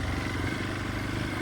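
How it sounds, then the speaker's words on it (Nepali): A motorcycle rides along a jungle track, its engine droning steadily and close with rough, noisy wind-blown texture and no talk. "आज म जङ्गल बाइकमा जान्छु"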